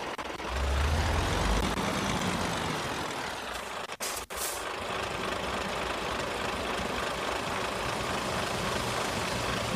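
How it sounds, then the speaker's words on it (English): A truck engine rumbles steadily on a road close by, a continuous low drone with broadband road noise and one brief dropout midway, no voices. "I'm not gonna go because this truck might not stop on time"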